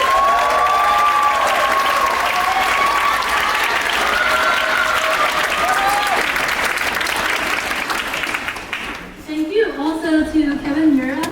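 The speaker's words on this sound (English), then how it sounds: "please stand up for a round of applause" A crowd claps in sustained applause for several seconds, dense and steady, then fades as a voice begins speaking near the end.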